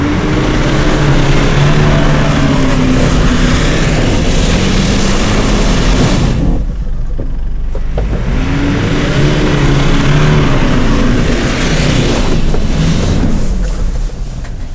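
A Toyota Fortuner SUV engine revs hard and steadily with diff lock engaged, its rear wheels spinning. The roar is loud and close, dipping briefly midway before climbing again, with no voices.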